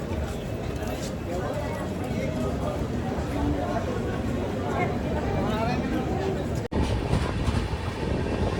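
Steady rumble and rattling clatter of the Purushottam Express rolling out of Koderma station from platform 3, heard from on board with a muffled jolt partway through.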